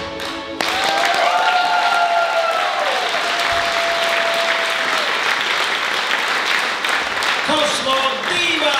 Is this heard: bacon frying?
no